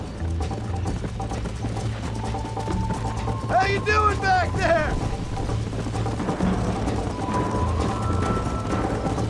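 Galloping horse hooves in the video game Red Dead Redemption on PS5, a steady rapid clip-clop running throughout beneath a man's spoken line, with a brief whinny-like cry in the middle.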